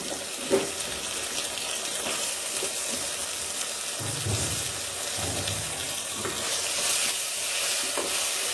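Chopped eggplant sizzles and is stirred in a pan with softened onion and tomato, a steady low crackle with occasional scraping and clatter of a spoon, fairly quiet and unbroken with no one speaking.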